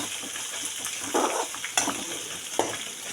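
Onions frying in a pan for poha, a steady sizzle broken by a few brief scraping stirs, with no voices.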